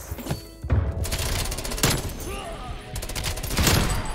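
Gunfire in the shooter Black Ops Cold War: bursts of shots and thumps run through the clip at steady loudness, with a player's voice talking over parts of it.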